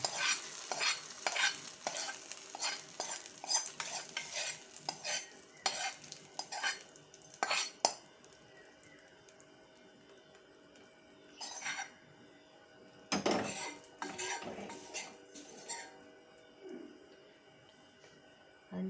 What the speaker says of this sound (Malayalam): അത് വറുത്തതെല്ലാം കൂടി നമ്മുടെ മാമ്പഴം പുളിശ്ശേരിയിലേക്ക് നമ്മൾ ഒഴിക്കുകയാണ്